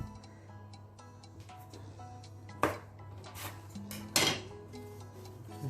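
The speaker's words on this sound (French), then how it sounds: "Je coupe la pâte" Donut dough rolled out on a floured surface is cut in two, with two sharp knife strikes against the board over a low steady hum in a quiet kitchen.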